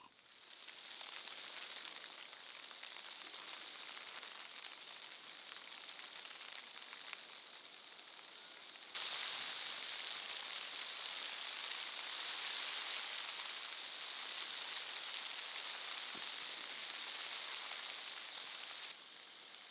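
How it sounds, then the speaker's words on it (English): Hail mixed with snow pelts a tent hard during a solo snow camp in the Australian Alps, a steady dense hiss with no break, growing heavier and louder about halfway through. "It's still a little bit in between hail and snow. But yeah, it's coming down pretty hard."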